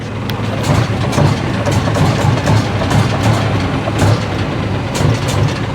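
Isuzu FXZ360 truck engine idling and revving with an aftermarket electric throttle unit, a loud, steady low rumble with a few mild swells in pitch and volume, heard alone up close.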